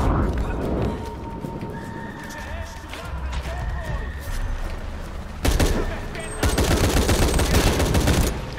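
Enemy gunfire in Shadow of the Tomb Raider breaks out as loud, sustained bursts in the second half. Before that comes a quieter stretch of game sounds, with what resembles horse whinnies and hoof clatter mixed in.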